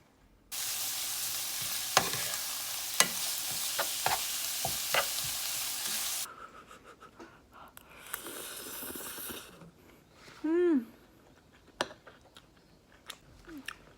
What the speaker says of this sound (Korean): 저는 그냥 참치액으로만 이렇게 양배추 같이 볶다가 요거 넣으려고